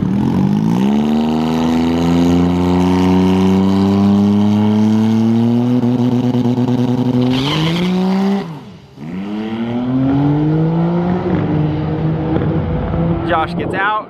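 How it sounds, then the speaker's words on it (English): A Honda Civic race car with a J-series V6 and a turbo 400 transmission accelerates hard at a car meet, its engine revving up through gears in a long loud climbing roar, with a brief shift dip and crowd voices. "Josh's Civic's got a little J series in it, the V6, and a turbo 400."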